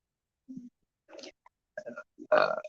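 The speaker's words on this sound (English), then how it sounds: "Sorry about that. I had a burp." A person on a livestream lets out a couple of short, close burps in a quiet room, separated by brief gaps, with one louder, throaty final eruption.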